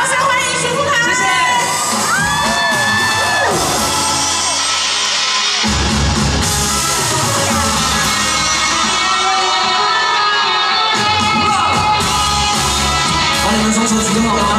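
A concert crowd at an outdoor song night in Taichung cheers and shouts for a singer, with loud whoops and children's shrill cries over a sustained roar, swelling in waves across the whole stretch.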